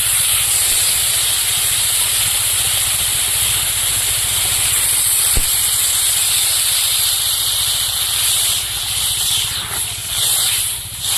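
Water from ground cumin and coriander spice paste hitting a hot pan for a Kadaknath chicken egg curry with new potatoes, producing a loud, continuous hissing sizzle that runs steadily throughout and thins slightly near the end.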